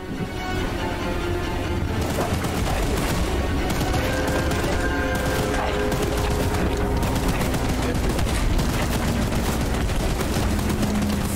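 A weapon fires nonstop in the video game Choo-Choo Charles, a loud, dense stream of rapid shots like a machine gun that rattles on for more than ten seconds without a pause.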